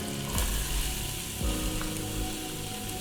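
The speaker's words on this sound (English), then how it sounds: "we're gonna let our onions and garlic just get nice and fragrant" Onions and garlic sizzle and fry in a pan, a steady crackling hiss with a few louder pops and stirring scrapes, heard close and alone.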